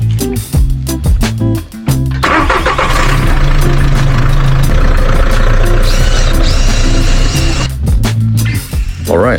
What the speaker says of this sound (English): I decided to move all of the cars and vans.